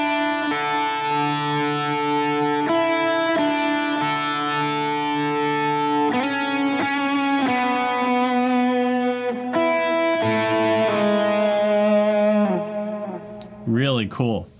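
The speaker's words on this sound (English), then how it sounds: "we're going to do this really pretty melody line that the guitar and the keyboard do together," An electric guitar with light effects plays the gentle melody line of the worship song You Are Good, sustained single notes ringing up close, ending with a brief wobbling pitch sweep.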